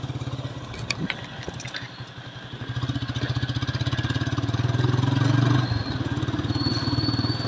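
A motorcycle riding along an empty road at night between Gambharimunda and Sunakhela, its engine thrumming in a close, steady pulsing drone that swells louder midway as it accelerates, then settles back to a constant rumble.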